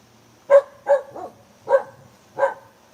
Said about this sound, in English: She likes to bark to hear her echo.